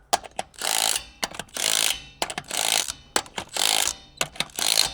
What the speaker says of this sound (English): what I'm gonna do is go around one more time with the impact gun just to make sure that everything is tight